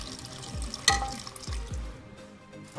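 Hot water poured into a pan of egg curry to make the gravy, a soft splashing pour with low sizzling and bubbling over a few seconds.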